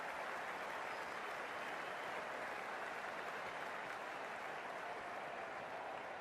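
Stadium crowd in the Cricket 24 video game applauding a boundary in an India versus Bangladesh World Cup match, a dense, steady wash of clapping and cheering that holds evenly for the whole stretch with no voices on top.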